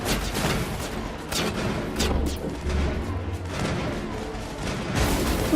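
Rifle fire in the video game Mass Effect, a series of sharp, loud shots and booming impacts spread across the moment amid ongoing combat noise.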